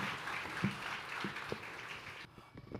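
A church congregation claps together during a Hindi sermon, a dense, fairly soft wash of applause that stops abruptly near the end.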